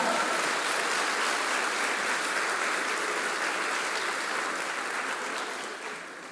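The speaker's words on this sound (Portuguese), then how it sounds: "Você pode dar um aplauso ao Senhor?" Sustained applause from a large crowd, steady and dense, slowly fading toward the end.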